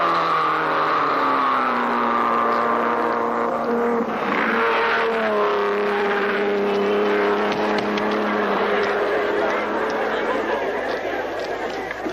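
Late-1930s Mercedes racing cars under three litres roar past with rising and falling engine whine, several cars sweeping through in turn, steady and fairly loud, with a crowd murmur beneath.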